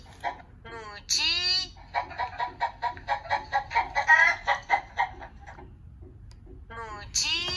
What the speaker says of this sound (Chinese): 母鸡